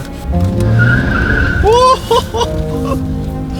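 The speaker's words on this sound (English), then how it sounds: "don't burn your rubber" Car tires squealing and burning rubber close by, a loud rising squeal over engine roar followed by a few short, sharp chirps as the car slows.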